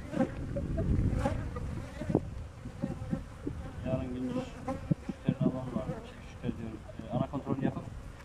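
Honey bees buzz around an open hive during a honey harvest, a close, continuous hum beneath people talking.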